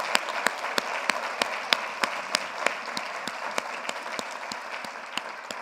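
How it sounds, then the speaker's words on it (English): A large summit audience applauding steadily, dense clapping with sharp individual claps standing out, close and sustained throughout without speech. "let's all give them a big round of applause"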